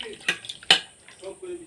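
A conch shell bangle being washed in water, a few brief splashes and clinks against a vessel with quiet gaps between them.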